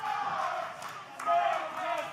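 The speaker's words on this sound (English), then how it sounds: "Listen to the crowd here at Davis Arena." A wrestling crowd at Davis Arena roars and cheers in a sustained, distant wash of voices that swells slightly midway through the short burst.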